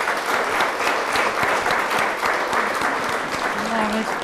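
Audience applause rings out at an Armenian solo concert, a dense burst of many hands clapping close and loud with individual claps audible, while a voice speaks over it.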